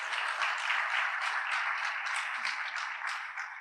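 Audience applause fills a talk event about a soccer community, a steady dense clapping from a crowd that holds evenly and fades slightly at the close.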